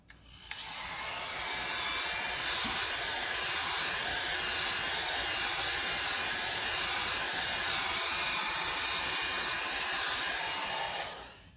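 A hair dryer without attachments blows steadily across alcohol ink on Yupo paper for a dragonfly painting, a loud continuous roar that starts and stops sharply with no talking.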